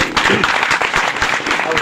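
Loud, close applause fills the hall at a Hindi-language RCM network marketing gathering, a dense continuous clatter of many hands with voices faintly mixed in beneath it.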